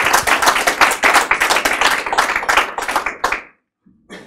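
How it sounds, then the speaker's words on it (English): A quick round of clapping from an audience at a learning analytics event, loud and dense for about three and a half seconds before stopping abruptly, followed by a brief low murmur. "quick round of applause, I would say."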